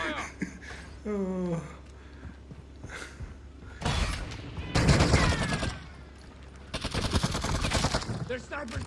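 Gunfire in Call of Duty Modern Warfare II: loud bursts of automatic shots in several heavy clusters with quieter gaps and mechanical clanks between, with voices shouting over parts of it.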